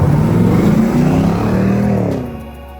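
A Land Rover Defender 110 soft top fitted with a 430 hp GM LS3 V8 and six-speed automatic runs loud and close, its engine note rising and wavering before easing off and fading near the end.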